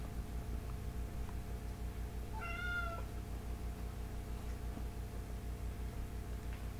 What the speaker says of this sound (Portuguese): Meu gato tá chorando, tá querendo alguma coisa.